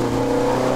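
A Ferrari 430 Scuderia accelerates on the Las Vegas Motor Speedway racetrack, its engine a loud, steady, close drone lasting under a second with no speech.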